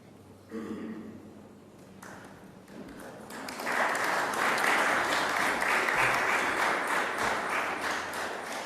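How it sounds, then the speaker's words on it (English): Sparse scattered clapping at first, then building into steady, moderate applause from a crowd at a government announcement that carries on to the end. "Thank you for that very tepid applause."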